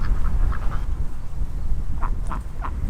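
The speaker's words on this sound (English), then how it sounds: "the ducks have been really enjoying them" Garden ducks quack in two short bursts, a quick run of several calls early on and another cluster near the end, over a steady outdoor background hum.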